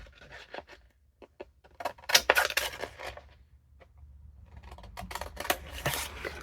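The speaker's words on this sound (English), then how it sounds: "Cut that off." Scissors snipping through paper while trimming an envelope flap, a series of crisp close cuts and rustles that cluster loudly in the middle and continue more softly toward the end.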